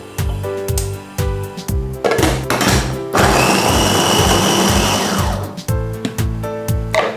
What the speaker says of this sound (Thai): เราก็ได้ทั้งพริกทั้งตะไคร้ทั้งหอมแดง ทั้งกระเทียมที่ปั่นเรียบร้อยแล้วนะครับ